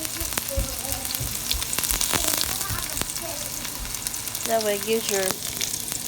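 Sliced onions fry in hot oil in a pan for a red chilaquiles sauce, a crackling sizzle with stirring scrapes, while a person talks over the cooking.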